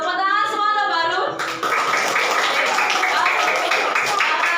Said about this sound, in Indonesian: Tepuk tangan semua untuk Bahrul.